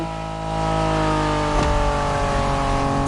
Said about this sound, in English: Are you familiar with the Honda you're driving? The NSX isn't your regular street car.